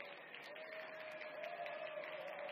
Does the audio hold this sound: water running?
no